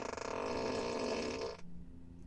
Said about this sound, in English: Ludicrous fart